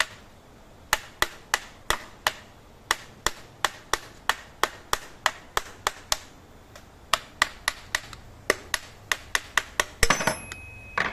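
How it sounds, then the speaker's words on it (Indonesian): A hammer strikes repeatedly on a water pump casing to pry it open, a long run of sharp metallic knocks at a steady, moderate pace, close and fairly loud, with a few quicker clattering hits at the end. "setelah ini kita buka pakai palu"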